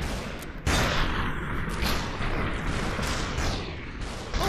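Gunfire in the VR game Superhot, a heavy burst of loud, rapid shots and booming blasts that starts abruptly and continues as a dense, crackling barrage, with no talking.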